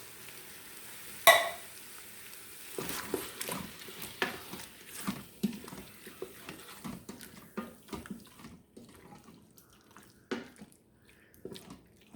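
Tomatoes hit the hot oil in an Instant Pot for chicken tikka masala, setting off a wet sizzle broken by several stirring scrapes and splashes, fairly close, with the sizzle thinning out toward the end and no talking.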